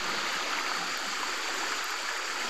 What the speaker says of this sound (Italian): Siamo arrivati alla cascata terminale